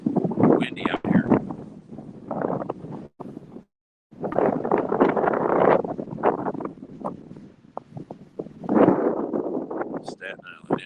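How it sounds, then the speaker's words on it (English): Gusty wind buffets the microphone on a waterfront pier at Valentino Park in Red Hook, Brooklyn. It makes a loud, rough rumble that surges and drops over several seconds, with a brief lull near the middle. "Windy out here."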